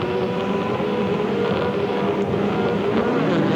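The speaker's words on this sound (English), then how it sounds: "We're about 7 seconds away from the start. Watch the Nissans off the line." Four-wheel-drive Nissan touring cars launch off the line at a 1992 Australian Touring Car Championship race start at Eastern Creek, a steady, dense engine roar with wind noise filling the whole moment and no voices.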